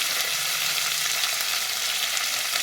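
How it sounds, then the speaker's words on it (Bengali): Crab pieces frying in hot oil with salt and turmeric, a steady dense sizzle close up that holds unbroken for the whole stretch, with no voices. "ভালো করে ভেজে নিতে হবে আর পরিমাণ মতো নুন আর হলুদ দিয়ে দেবে একটু"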